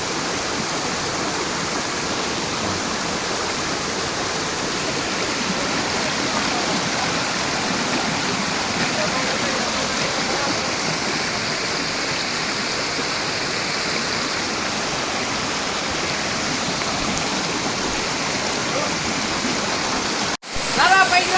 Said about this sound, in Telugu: అడవిలో దాగున్న అద్భుతమైన రహస్యమైన జలపాతం ఎంతో కష్టపడిన తర్వాత చేరాము